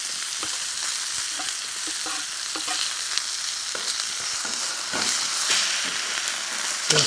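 Steak and shallots sizzle steadily in a hot pan over a fire, a continuous close frying hiss with small crackles and pops, with no voices.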